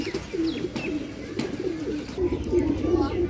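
Pigeons in a pigeon sale setting, soft repeated cooing calls close by, several overlapping coos in a low, rolling rhythm with faint background noise.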